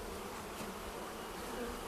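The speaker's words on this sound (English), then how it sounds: "this is a box full of bees" A dense, steady buzz of many bees in a horizontal hive box, loud and close, with no pauses or voices.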